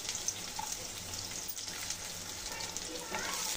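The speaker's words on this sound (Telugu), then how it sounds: "ఈ ఆనియన్స్ని బాగా కలుపుకొని గోల్డెన్ కలర్ వచ్చేంత వరకు ఫ్రై చేసుకోవాలండి." Chopped onions fry in hot oil with two cloves and a cardamom pod, a steady crackling sizzle with soft stirring scrapes running throughout, close and fairly even in level.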